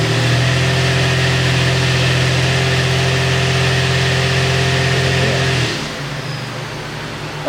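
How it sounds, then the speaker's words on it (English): A car engine is brake-torqued in drive, holding a loud, strained, steady drone at high revs, then dropping abruptly to a quieter idle near the end. "You should be able to hear the engine brake torque."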